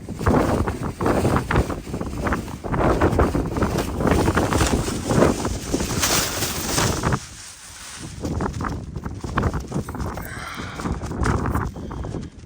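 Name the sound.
wind blowing dust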